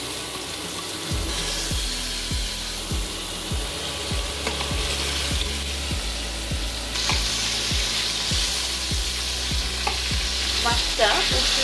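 Rohu fish pieces fry in white oil in a pan for a traditional rural Bengali curry, giving a steady close sizzle broken by regular scraping strokes of a spatula, with no voices.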